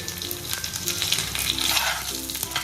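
Curry leaves, turmeric and salt hit hot oil for a vada pav potato filling. A loud, continuous sizzle and crackle carries through the whole clip, with the clink of stirring.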